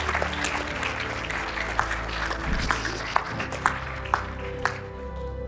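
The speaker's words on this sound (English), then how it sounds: "Can we give a round of applause if she's here?" A crowd at a motivational talk applauds a guest, with a moderate wash of clapping punctuated by a few sharper, closer claps, no voices over it.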